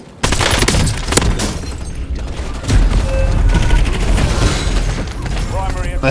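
The TR2 gun fires in a video game in loud rapid bursts of gunfire with booming impacts, continuing almost throughout amid busy game noise.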